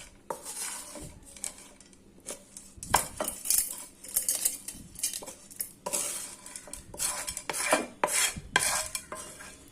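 A metal spoon scrapes and clinks against a pan and steel mixer jar while transferring fried chana dal for chutney, giving repeated close, bright scraping and tapping strokes in an irregular rhythm, with no talk.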